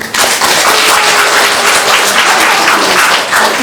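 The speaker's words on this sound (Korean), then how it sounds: "박수" An audience at a small fan meeting held in a room below a church bursts into loud, dense applause, a sustained roar of many hands clapping close by with no pauses.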